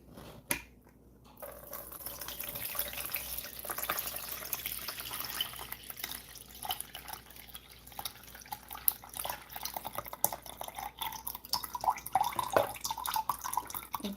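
Liquid is poured and drips with a wet, uneven trickle and scattered splashy ticks, steady throughout and fairly close, with no voices.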